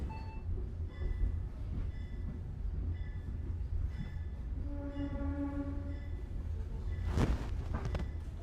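Indonesian passenger train KA Pangandaran rolling slowly into Purwokerto Station at night, a steady rumble of wheels and carriage with faint squeals and tonal hums, a brief louder burst near the end.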